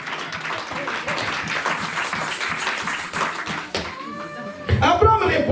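A church congregation claps and applauds for Jesus during a French-language sermon, a steady mass of clapping through most of the moment, fading briefly before a louder burst of voices near the end.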